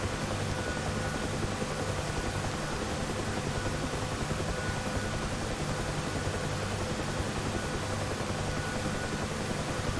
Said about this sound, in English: The helicopter hovers best near the ground, where ground effect acts like an air cushion below the helicopter.